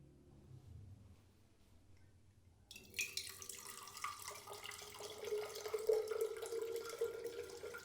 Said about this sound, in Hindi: इसके लिए मैं डेवलपर अब पोर करने लगा हूँ।